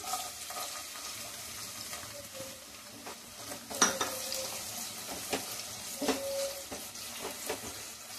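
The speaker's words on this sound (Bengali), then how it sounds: "পেঁয়াজটা হালকা ভাজা হয়ে গেছে" Chopped onion frying in hot refined oil in a wok while making pav bhaji, a steady soft sizzle with occasional utensil clinks and scrapes, moderately quiet and close, with no talking.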